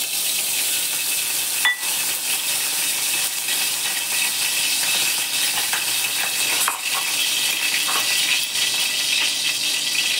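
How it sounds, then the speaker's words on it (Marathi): A little oil heats in a kadai (wok) and sizzles with a continuous close hiss, broken by a few faint metallic clinks. "एका कढईमध्ये थोडंसं तेल घालते."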